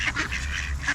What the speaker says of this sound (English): Feeding Privileged Ducks